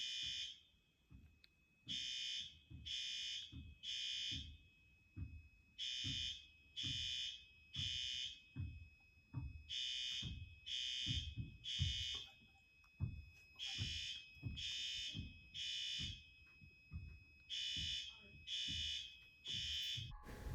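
A newly installed school fire alarm system sounds during a test, pulsing in a steady on-off pattern of regular bursts. It is heard from far off through closed doors, with faint footsteps and movement underneath.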